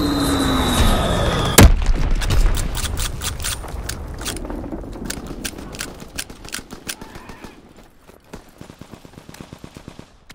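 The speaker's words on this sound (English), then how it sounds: "Dropping Blitz X bomb." A Blitz bomb dropped in Call of Duty WWII multiplayer, a whistling descent cut off by a sharp heavy blast, followed by a long rattle of machine-gun fire and explosions that gradually fade.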